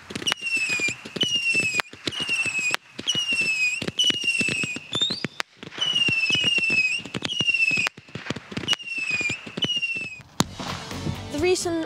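Fireworks crackle and pop continuously, with sharp bangs and rising whistles repeating over several seconds, fairly loud and busy throughout.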